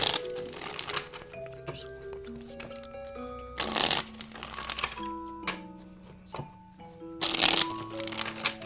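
A tarot card deck being shuffled, with repeated crisp riffling and slapping bursts at irregular intervals over soft sustained background music.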